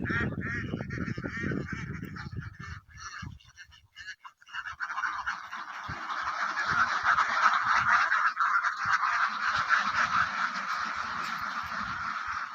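A loud flock of layer ducks at a duck farm honks and quacks continuously during duck plague vaccination, many birds calling at once, with some low rumbling and handling noises early on.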